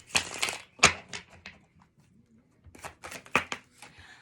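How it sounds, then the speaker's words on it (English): Crisp, riffling bursts of a Chicoli tarot deck being shuffled, in two separate rounds with a short quiet pause between, close and fairly quiet. "Let us shuffle this Chicoli deck"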